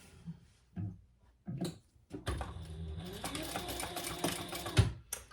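A sewing machine stitches a quarter-inch seam on a handmade bowl koozie, starting with a few short bursts before settling into a steady, close whirring run of several seconds with light clicks.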